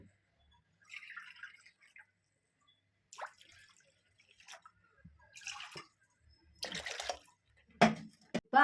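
Water poured from a measuring cup into a pan of ghee-roasted semolina for rava kesari, arriving as several short splashing pours separated by near silence, close and fairly quiet.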